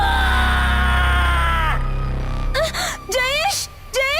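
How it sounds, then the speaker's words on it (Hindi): A horror story's ghost, Munjya, screams loudly: a sustained, shrill wail that breaks off into several short rising shrieks, loud and close. "गाना बंद होने की वजह से मुंजिया एकदम जोर से चीखता है।"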